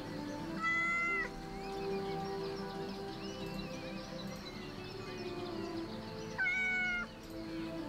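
Two distinct cat meows, near and clear, in the court-management game Yes, Your Grace, spaced several seconds apart over a steady hum of game music and background ambience.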